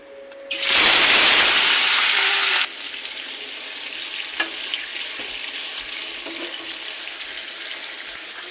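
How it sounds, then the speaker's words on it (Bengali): Turmeric, salt and chilli-coated chicken pieces dropped into hot oil in a kadai, bursting into a loud, close sizzle that settles after a couple of seconds into a steady, quieter frying crackle. "এই চিকেনটাকে এবার তেলে ভেজে নেবো"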